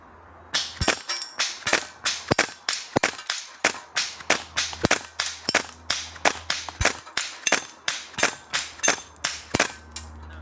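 Double Eagle M4A1 airsoft gas blowback rifle firing at a target about 25 meters away, around two dozen sharp, snappy shots in an even semi-automatic rhythm, loud and close, each with a brief metallic clack and no talk.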